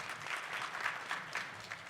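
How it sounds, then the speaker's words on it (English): Soft, fairly distant applause from an audience at a cancer health promotion symposium, a steady light patter of hands across the short span. "let's do one final round of applause for the speakers"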